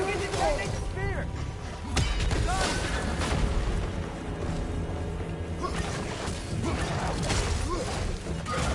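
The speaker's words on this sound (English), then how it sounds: "Don't forget to detonate the spear!" Detonating the spear in the video game God of War Ragnarök, a loud, dense battle din of booms, crashes and whooshes that runs throughout, with shouted voices mixed in.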